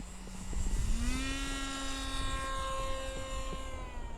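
A radio-controlled airplane flies overhead on a cold winter day, its thin electric motor whine rising then gliding steadily with a Doppler-like pitch shift, moderately faint against a low wind rumble, no voices.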